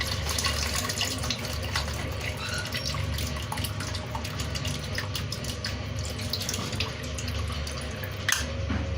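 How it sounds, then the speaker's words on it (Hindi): Tamarind soaking water poured from a vessel into cooked dal for a sour lentil dish, a steady splashing trickle with dripping that runs throughout at close range, with no talk. "अब हम इसमें डालेंगे जो हमने इमली भिगोई थी, उसका सिर्फ पानी डालना है हमने।"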